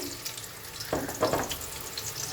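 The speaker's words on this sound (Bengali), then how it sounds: "আমার তেলটা গরম হয়ে গেছে। আমি পেঁয়াজ কুচানোটা দিয়ে দেবো কড়াইয়ের মধ্যে।" Chopped onion dropped into hot oil in a wok, giving a burst of crackling sizzle that rises near the middle and settles into a steady fry, close and fairly quiet.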